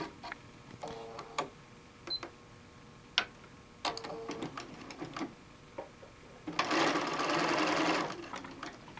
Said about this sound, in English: we are going to stitch at a 1/4 inch seam and we're going to sew 2 strips together